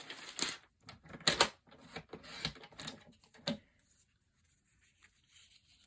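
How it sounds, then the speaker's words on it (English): Designer paper for a triple easel card is cut to trim off a half-inch piece, giving a series of close, crisp snips and rustles that trail off into quiet. "I can just put a little tick mark there and I can cut that off, which I will do"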